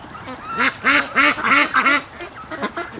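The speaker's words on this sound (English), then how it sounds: "we got ducks hiding everywhere" Several ducks in a pen give a run of loud, close quacks and honks in quick bursts, then quieter scattered calls toward the end.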